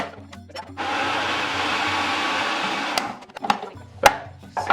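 A blender whirs loudly and steadily for about two seconds while blending strawberry mousse ingredients, then stops, leaving a few sharp knocks and clatters of the jug and lid.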